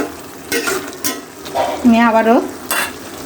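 A pan of ingredients for a dried fish (chepa shutki) curry being stirred and mixed, spatula scrapes and a soft sizzle in short bursts, close and fairly loud, while someone speaks briefly.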